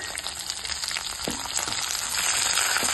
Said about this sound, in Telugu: ఇందులో కొద్దిగా పచ్చిమిరపకాయలు, 2 సన్నగా తరిగి కరివేపాకు ఇవి కూడా వేసుకుని వేయించుకోవాలి